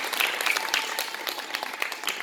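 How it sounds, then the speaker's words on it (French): A magic show audience gives the magician Luco a brief burst of lively applause, with dense clapping from a small crowd. "on applaudit Luco."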